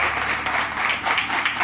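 A crowd applauds steadily at a farewell ceremony, a dense wash of many hands clapping that carries on without a break.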